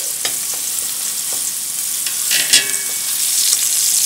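Osso buco veal shanks sizzle and fry steadily in a hot frying pan, with a continuous crackle and occasional louder pops, no voices.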